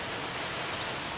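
Rain falls on a boat in Queensland, a steady soft patter of drops across the deck, faint and continuous with a few slightly louder splashes.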